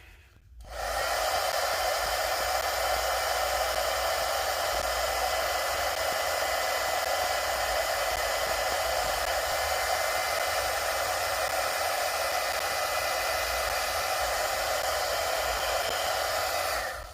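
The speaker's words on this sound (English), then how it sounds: "I'm turning on the heat tool one more time" A heat tool blows hot air onto a handmade card. A loud, steady whoosh starts with a click and runs without a break until it shuts off at the end. No voices.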